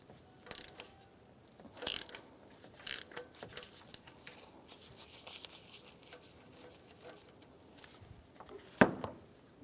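A socket wrench on a 19mm socket loosens the coolant temperature sensor on a 1992-1996 Ford F-150, giving quiet, scattered ratcheting clicks and metallic taps at close range with no talk.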